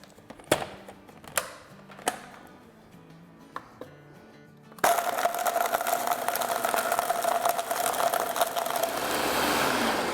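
Mixer grinder crushing ice with sugar for a slushie: a few sharp knocks and clatters first, then the motor starts and roars steadily with a whining tone for the rest, loud and close.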